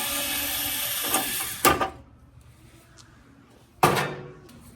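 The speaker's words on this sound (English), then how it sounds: "I'm going to remove this last screw at the bottom." A screwdriver backs the last screw out of a Brother GTX Pro printer panel, giving a steady whir that stops, followed by two sharp metallic clacks with quiet between them.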